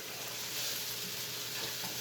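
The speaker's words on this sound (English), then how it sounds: "I can hear the sizzling." Beef fries in a hot pan with a dense, continuous hiss and crackle, close and steady throughout with no voices.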